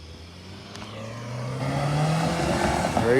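A car drives away at night near a railway line, its engine revving and growing louder as it accelerates, the rumble building steadily over a few seconds.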